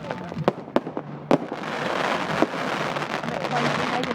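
Fireworks go off nearby in a series of sharp bangs and cracks, followed by a continuous crackling fizz, loud and close, with people talking around them.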